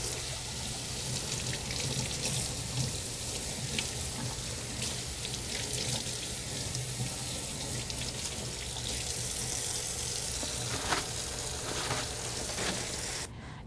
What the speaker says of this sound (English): a paper towel to turn the faucet on. And just like hand washing, be sure and wash your gloves very well.